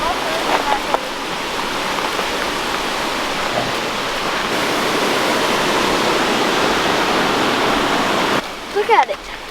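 Creek water rushing steadily at night, a constant broad wash of flowing water up close, with brief handling noises and a few faint voices near the end.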